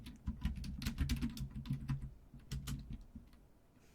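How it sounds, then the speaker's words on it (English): Rapid computer keyboard typing, irregular key clacks in quick bursts close to the mic, easing toward the end, with no voices. "it's back again, the awful keyboard"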